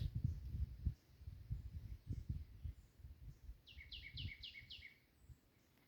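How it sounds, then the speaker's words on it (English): Faint birds chirp in Jamaica in a short run of quick, bright notes in the distance, over low rumbling handling noise and quiet ambient sound. "you can actually hear the chirping of the birds"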